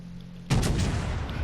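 USS North Carolina battleship main guns firing in World of Warships Legends, one sudden loud booming salvo that rolls on in a dense rumble after half a second of quiet.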